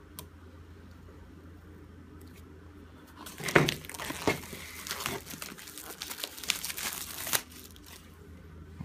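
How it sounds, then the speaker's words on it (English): A knife slices open the cardboard box of an Apple iPad Mini 3, with close crinkling, scraping and tearing sounds over several seconds, ending in a brief cluster of clicks and crackles. "So let's bring on my knife here, then let's cut open the box."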